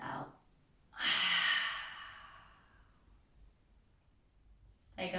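A slow, full yoga exhale during a seated closing with palms at the heart, heard as a soft, close breath that swells and fades over a few seconds, with a quieter breath before it and another starting at the end.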